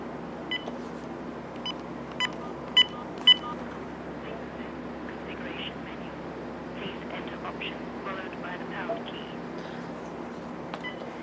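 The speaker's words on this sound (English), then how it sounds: "So you dial 4 stars." Four short, evenly spaced telephone keypad tones for dialing star four times, on a phone line hooked to a home dial-up setup, rising out of a steady low background hum before it settles quiet.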